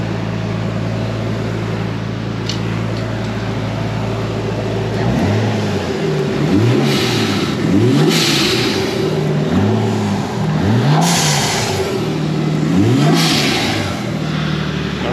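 Nissan Skyline R33 with a turbocharged RB25 engine and HKS air intake, idling steadily, then blipped repeatedly in a series of sharp revs that rise and fall, loud and close.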